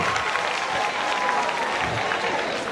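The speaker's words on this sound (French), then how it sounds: "On applaudit très fort pour tout le monde." Loud, steady applause from a crowd of pilgrims at a Lenten diocesan pilgrimage gathering, sustained without a break from start to finish.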